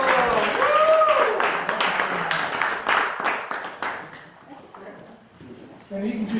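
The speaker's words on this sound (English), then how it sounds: "Can we clap?" Audience members clapping together at a Boston training event, a dense burst of applause that tails off after a few seconds, with voices talking and calling out over it.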